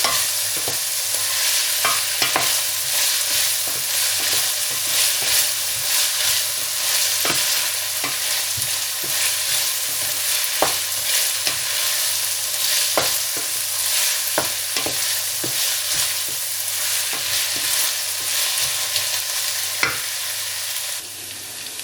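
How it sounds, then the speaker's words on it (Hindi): Onions and green chillies fry in a pan with a constant loud sizzle, and a spoon scrapes and stirs through it repeatedly in short irregular strokes. No one speaks. "यहाँ मैं हल्का सा ब्राउन करूँगी प्याज को, तकरीबन 2 मिनट हम भूनेंगे।"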